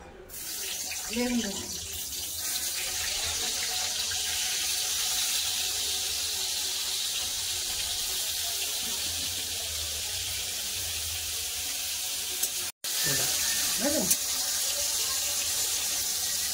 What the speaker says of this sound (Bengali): বেগুনটা লাল লাল করে ভেজে নিয়েছি।